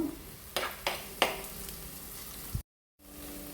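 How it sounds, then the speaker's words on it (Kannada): Chopped garlic and ginger frying over a high flame for a restaurant-style spicy prawn gravy, a steady close sizzle broken by a few sharp stirring scrapes, then a brief silent gap before the sizzle resumes. "ಕತ್ತರಿಸಿದ ಬೆಳ್ಳುಳ್ಳಿ ಮತ್ತು ಶುಂಠಿಯನ್ನು ಕೂಡ ಹಾಕ್ತಾ ಇದ್ದೇನೆ. ಇದನ್ನು ಕೂಡ ಫ್ರೈ ಮಾಡಬೇಕು ಒಂದು 2-3 ನಿಮಿಷ."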